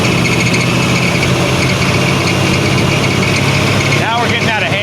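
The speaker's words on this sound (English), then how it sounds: "let's crank this idle circuit down a little" Engine of a 1979 GMC C35 camper truck idling as the idle circuit is adjusted, a loud, steady, close rumble throughout with a faint whine entering near the end.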